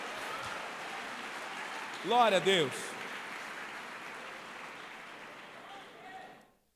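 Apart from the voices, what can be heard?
church congregation applauding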